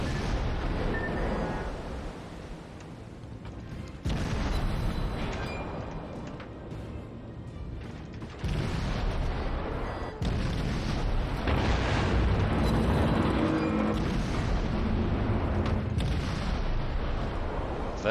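The US premium cruiser Atlanta in World of Warships firing its guns in a barrage, a continuous rumble of booming blasts with sudden jumps in loudness as new salvos start, loud and dense, no talk.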